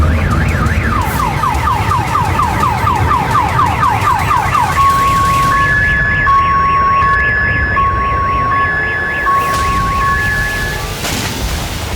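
Parked car security alarms wail in Crimea after an explosion. Loud, rapid warbling sweeps give way to steady repeating beeps, with several alarms overlapping continuously and no voices.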